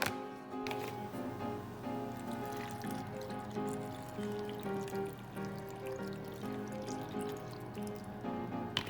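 Water trickles and pours steadily into a pot holding pumpkin, a continuous quiet splashing with a rising tonal ring as the vessel fills, no talking.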